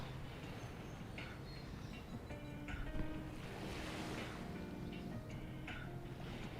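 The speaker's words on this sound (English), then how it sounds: "I hope you hear the ocean waves behind us, just a little gentle wave there" Gentle ocean waves lapping behind an outdoor yoga session, a faint, soft wash of surf with light wind noise and small splashes coming and going in the background.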